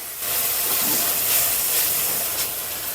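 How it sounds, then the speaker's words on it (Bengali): Spices frying with salt in a hot pan, a steady broad sizzling hiss that holds evenly and close throughout with slight swells. "এরপরে মশলাটা আমি ভেজে নেবো আর এটা ভাজার সময় এর ভিতরে আমি লবণ দিয়ে দেব"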